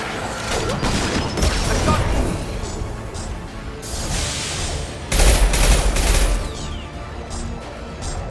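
Rifle fire from a Mass Effect 2 battle rattles out in dense rapid bursts, loud and close, with heavier booms mixed in and a brief voice under the shooting.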